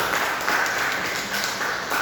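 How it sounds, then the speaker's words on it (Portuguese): Congregation applause during a church lesson, a steady continuous wash of many hands clapping together, even and moderately loud, slightly distant in the room with no clear voices over it. "Uma salva de palmas para a glória de Deus"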